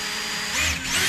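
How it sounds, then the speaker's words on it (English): A cordless drill fitted with a small screwdriver tip whines briefly as it backs screws out of a Shimano Tyrnos fishing reel's graphite body, the motor pitch rising and dipping close by, with no voices. "cordless drill with a small screwdriver tip"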